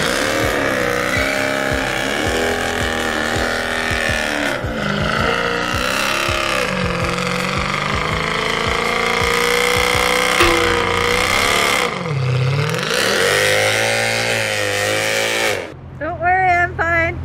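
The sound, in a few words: Mercedes C63 AMG doing a burnout, engine revving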